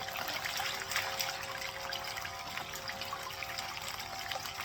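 Water and gravel slowly poured from a gold pan back into a bucket during prospecting, a steady faint trickle and splash running throughout with no talk.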